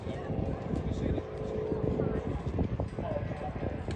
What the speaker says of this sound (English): We have a number of aircraft here at Midlands that will be flying with converted VW engines.